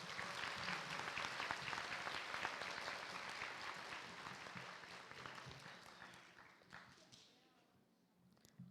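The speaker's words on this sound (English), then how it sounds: "Let's give them another round of applause." Audience at a school board meeting applauds a middle school cheer team, a dense burst of clapping that fades gradually over several seconds into quiet.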